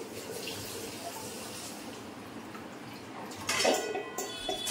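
Rice goes into a pot at a kitchen sink, with running tap water, splashing and clinking of metal utensils and dishes, louder bursts of rattling toward the end.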